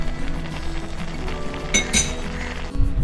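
Metal spoon clinking against a pan while stirring pineapple pachadi with curd for a Kerala sadya, a couple of bright clinks mid-way over low stirring and cooking noise.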